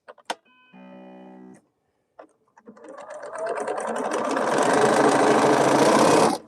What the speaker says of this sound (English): sew this stuff together